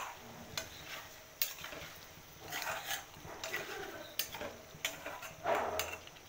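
Cubed winter tomatoes stir-fried into chicken curry give soft sizzling under repeated scraping spoon strokes against the pan, close and fairly quiet, in uneven bursts.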